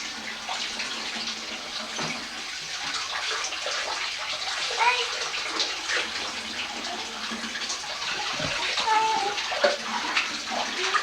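Hot water gushes steadily from a tap into a bathtub, a continuous close splashing rush, with a voice and other voices heard faintly under the flow.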